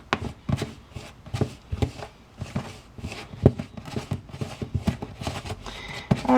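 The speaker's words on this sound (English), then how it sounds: "with a wooden spoon, you're going to go ahead and stir that in to your mixture" A wooden spoon works through a thick oat biscuit dough in a bowl, producing a steady run of close, uneven knocks and scrapes with no talking.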